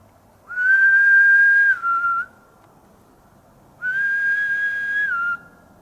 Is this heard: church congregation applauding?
no